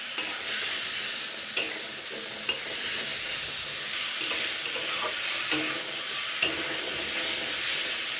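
Spice paste sizzles loudly and evenly in a pan while it is stirred and fried, with a few sharp knocks of the spoon against the pan and no talking.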